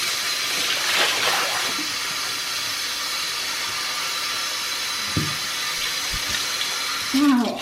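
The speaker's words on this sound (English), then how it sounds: "And then afterwards you wash it 3 times." Raw liver rinsed under a running kitchen tap during kashering, a steady rushing stream of water splashing close by with a few brief handling knocks and a louder splash near the end.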